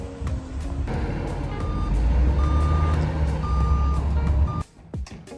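Reversing beeps from loading machinery sound repeatedly and loud beside a truck being loaded with a yard of topsoil, over a steady low diesel rumble that cuts off near the end.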